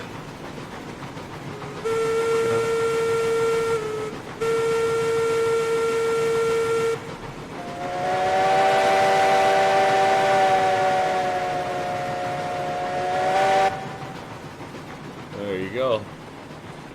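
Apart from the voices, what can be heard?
steam locomotive whistle in the video game RailRoads Online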